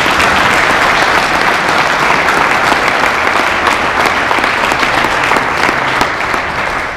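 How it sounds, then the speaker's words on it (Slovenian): Loud, sustained applause from an audience at a charity auction talk event, steady dense clapping filling the whole stretch without speech on top. "glasen aplavz,"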